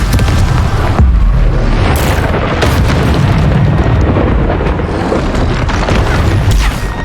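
Spell blasts including Confringo in the Hogwarts Legacy video game: a dense run of booming impacts and sharp explosive bursts, loud and continuous, with no talking.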